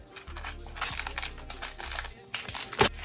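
Plastic goodie bag crinkled open up close, with bursts of sharp crackling rustles in quick succession, some louder than others.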